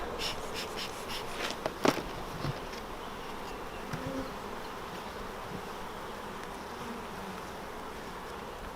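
A dense, continuous drone of many honeybees buzzing close by in an open hive, with a few brief knocks and clicks near the start.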